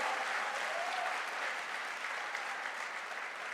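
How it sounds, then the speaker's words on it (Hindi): Sustained applause from an audience at a direct-selling motivational event, a steady dense wash of clapping that holds evenly for the whole stretch, with no voices over it. "अरे ताली बजाना तो थोड़ा जोर से बजाइए।"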